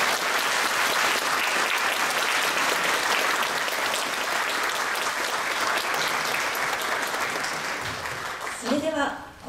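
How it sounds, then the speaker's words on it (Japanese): Sustained applause from an audience at the close of a panel discussion at a lecture event, steady and dense for most of the stretch, then tapering as a voice begins speaking near the end. "ご登壇いただいた方々に盛大な拍手をお願いいたします。"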